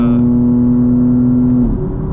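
A 900 hp 2025 BMW M4 Competition xDrive pulls hard under load with a steady, loud engine drone that breaks off at a quick gear shift near the end, heard from inside the car with no talk.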